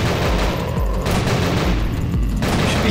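Sustained automatic gunfire from the game Nightmare House 2 fills the whole stretch, loud and close, with rapid overlapping shots and a brief lull partway through.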